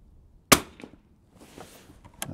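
A single sharp crack from a CZ 455 .22 rifle at the shooting range, close and loud, followed by faint handling clicks and low background rustle.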